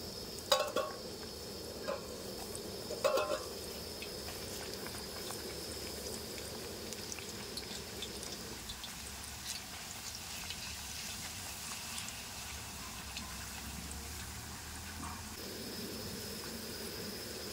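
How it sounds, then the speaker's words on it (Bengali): Steady crackling sizzle of potato chips frying in hot oil, close and continuous, with a few clinks early on and a quieter stretch midway. "তেল ঠিকঠাক চলে এসেছে এবার আমি সবগুলো ভেজে নেব"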